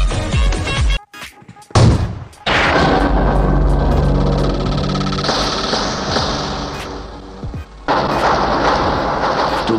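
PUBG gunfire, loud booming shots and bursts from a battle royale shooter, with a couple of sharp breaks before heavy sustained firing and blasts roll on.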